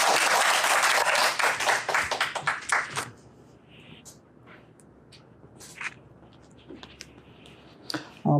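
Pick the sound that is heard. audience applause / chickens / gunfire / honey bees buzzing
audience applause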